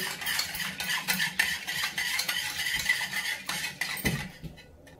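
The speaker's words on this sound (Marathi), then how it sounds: "1 चमचा हळद घालते, छोटा। ते व्यवस्थित ढवळून घेते।" Salt and turmeric being stirred into buttermilk for Maharashtrian kadhi, a spoon scraping and clinking steadily against a metal pot, close and fairly loud, with no talk, fading out near the end.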